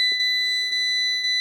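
A Fiat 500 gives off an electronic warning beep, a steady high-pitched tone broken by three brief dips in quick succession, loud and close, with no talk over it.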